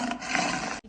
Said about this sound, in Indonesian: muncullah seekor harimau yang besar dan sangat lapar